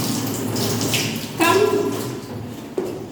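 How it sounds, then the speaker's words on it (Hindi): Running tap water pours steadily while hands are washed beneath it, with a splashy burst midway and a brief clatter near the end, close and continuous. "हैंड वॉश कर लेंगे पानी से"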